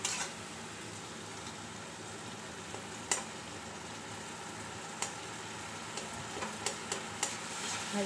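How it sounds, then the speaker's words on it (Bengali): Garlic paste fries gently in a pan, a quiet steady sizzle broken by a few sharp clicks and taps of stirring. "ভাজা হয়ে যাক রসুনটা।"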